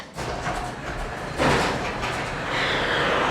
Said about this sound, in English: we're gonna hit the button and make sure that our garage door operates